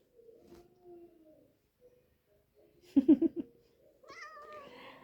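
A cat gives a quick cluster of short, soft meows amid quiet surroundings, followed by faint background noises.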